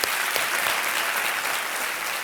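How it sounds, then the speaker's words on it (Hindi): Studio audience applause on the Indian TV quiz show Kaun Banega Crorepati, a dense, loud, continuous clapping that holds steady throughout. "एक बार फिर तालियां बज जाएं उनके लिए"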